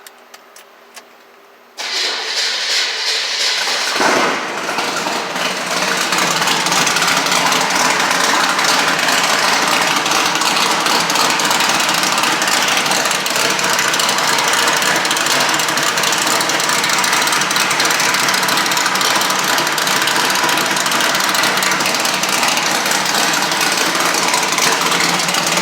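Chevrolet C10 truck engine starting up and then running steadily, loud and close with a rough, constant roar that holds for the rest of the clip.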